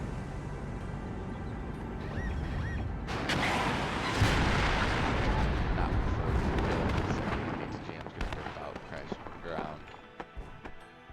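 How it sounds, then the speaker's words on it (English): A Bradley fighting vehicle opens fire in the WARNO war game, a loud sustained barrage of booming cannon fire that swells and then breaks into scattered sharper shots toward the end. "Bradley opens fire."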